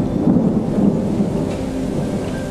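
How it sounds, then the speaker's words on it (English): Steady rain hisses while deep thunder rolls and rumbles through it at a grouse hunting camp in Pine Ridge. The storm noise is heavy and continuous, with no voices. "We're on standby until the storm passes."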